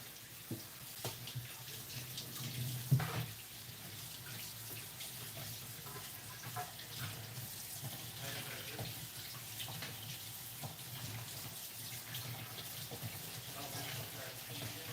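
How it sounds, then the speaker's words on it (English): Tap water runs steadily over mushrooms into a sink for a long stretch, with occasional clicks and knocks of handling nearby and faint talk underneath. "I'm running water over mushrooms"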